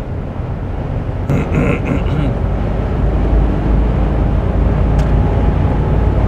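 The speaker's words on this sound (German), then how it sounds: "etwas mehr Windgeräusche als ganz moderne Autos hat er." Steady wind and road noise inside a 1979 Mercedes 450 SEL 6.9 cruising on the Autobahn, a constant broadband rush with a brief voice early on.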